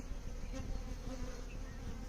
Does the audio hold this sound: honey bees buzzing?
yes